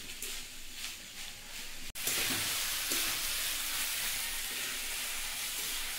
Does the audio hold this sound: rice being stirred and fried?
yes